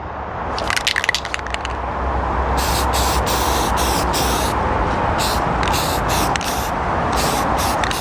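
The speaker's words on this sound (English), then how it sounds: "So I'm gonna go ahead and paint this metal." Aerosol spray paint hissing onto freshly welded metal, with a few sharp crackles at the start before long, loud bursts of spray that start and stop repeatedly over steady background noise.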